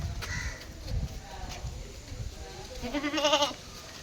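A nine-month-old crossbreed goat kid bleats once near the end, a loud wavering call close by, after quieter farmyard noises and brief talk.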